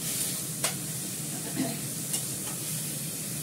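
Spinach with green chillies frying in a pan, a continuous close sizzle with a few sharp stirring clicks of a spoon against the pan.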